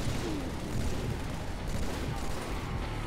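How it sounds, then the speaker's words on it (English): Halo 3 gunfire on the Sandtrap map: a dense, continuous barrage of shots and booms blending into a loud, rumbling roar throughout, with no clear voices. "Pink is shooting me right now."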